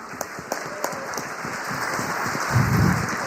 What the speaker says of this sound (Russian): Будь ласка, аплодисменти, криптонам.